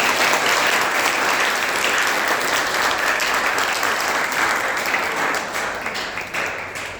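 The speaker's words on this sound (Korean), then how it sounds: "힘찬 박수 부탁드립니다" A church congregation at a Sunday service breaks into loud, dense applause, a sustained roar of many hands that holds steady and then tapers slightly toward the end.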